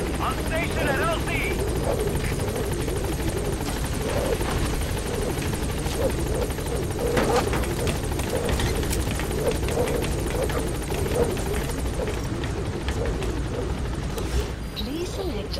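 Pequod helicopter arriving at a landing zone in the Metal Gear Solid V video game, a loud steady rotor roar filling the scene with game voices over it.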